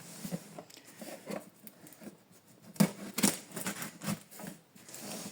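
A small knife cuts through the sticker sealing a gift package in close, quiet scratchy strokes. Irregular snips and crinkles come in bursts, with a couple of sharper clicks midway.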